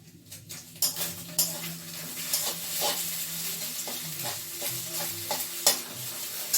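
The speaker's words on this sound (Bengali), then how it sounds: "শুধু তেলের উপর ডিম ফ্রাই করে ও খাবে" Egg and potato frying in oil, a steady sizzle with regular stirring strokes and metallic utensil scrapes against the pan, moderately close and fairly quiet, without talk.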